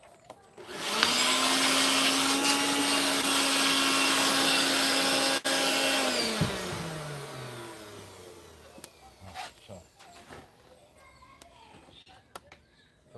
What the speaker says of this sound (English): we will use the broom in conjunction with the blower